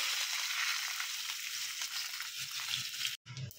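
Curry leaves tossed into a hot mustard seed and cumin tempering, a steady, fairly faint hiss of frying oil with soft crackles, briefly cutting out near the end.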